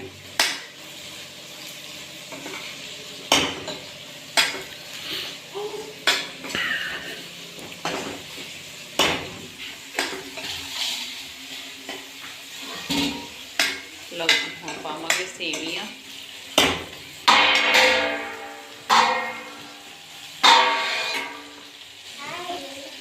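Vermicelli roasting in a pan, with repeated loud metallic scrapes and clinks of a utensil against the pan over a soft frying sizzle, the strokes coming at an irregular rhythm; a voice speaks briefly.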